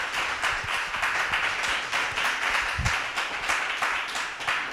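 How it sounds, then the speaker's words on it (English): An audience applauding at the close of an alumni panel discussion, a steady, fairly loud round of clapping from many hands with no one speaking over it. "Like, clap yourself."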